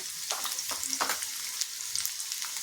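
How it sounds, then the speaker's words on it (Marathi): Peanuts, garlic, cumin and asafoetida fry in hot oil, a soft continuous sizzle broken by several short scraping stirs. "लसूण छान खमंग तळला जातो आहे"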